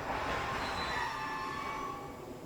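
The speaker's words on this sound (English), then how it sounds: "Yep, train. That's a train track" A train rolls past close by, a steady loud rumble of wheels on rails with high metallic squeals ringing through, no voices.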